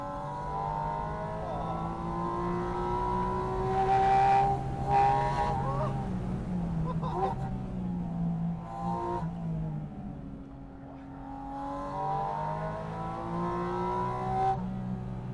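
A loud Porsche engine revs and accelerates nearby, its pitch sweeping up and falling back through several long pulls and gear changes over about fifteen seconds, with no talk.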